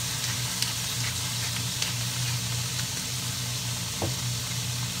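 Shrimp and squid stir-frying with oyster sauce and pepper, a steady loud sizzle and hiss from the pan with occasional clinks and scrapes of stirring, no voices.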